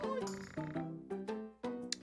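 Frogs croak in the video game Sakura Samurai, a series of short, resonant croaks repeating in an uneven rhythm, clear and close with no other sounds.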